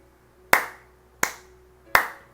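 In a church, three single sharp hand claps ring out about a second apart, each clear and separate with a short decay, over a quiet background hum.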